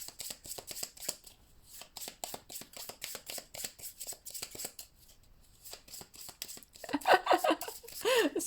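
Cards from a Cartographers board game deck being shuffled in repeated quick riffling bursts, close and fairly soft, with a brief louder rustle near the end.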